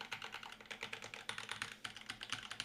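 Continuous fast typing on a Monstargears Classic TKL keyboard, aluminum top mount, Oolong switches and GMK Birch keycaps; near, crisp clacks fall in a quick, slightly uneven rhythm with no talking.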